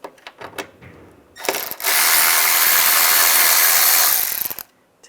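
Socket ratchet with a T20 bit turning out a radiator fan bracket screw on a 1999-2005 VW Jetta: a few light clicks, then a dense, loud ratcheting burst lasting about three seconds, close up, with no talk.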